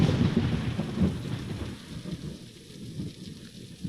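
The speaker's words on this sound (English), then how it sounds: "I did get the thunder" Recorded thunder rumbles low and heavy during a rainstorm, loudest at the start and then rolling off, with steady rain hissing underneath throughout.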